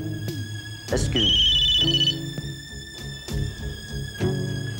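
A telephone rings in a tense indoor scene from a Hindi TV drama, the electronic ringtone tone repeating steadily for about a second mid-clip over background music and low voices.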